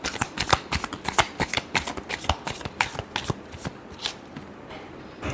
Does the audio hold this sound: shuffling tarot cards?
yes